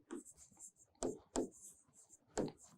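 Pen scratching across paper while an answer is handwritten, short faint strokes in a few bursts, quiet and close with no talk.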